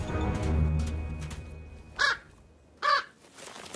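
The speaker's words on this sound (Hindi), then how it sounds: "पास में एक कौवा छिपा हुआ है जो जोर जोर से कांव कांव कर रहा है।" Two loud, harsh crow caws about a second apart, close by, over a low background rumble.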